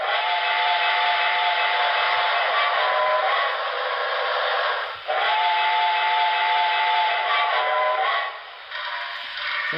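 A Broadway Limited HO scale Reading T1 model steam locomotive sounds its whistle, a long, loud, chime-like blast with a breathy hiss that holds for several seconds, dips briefly midway, then resumes before cutting off.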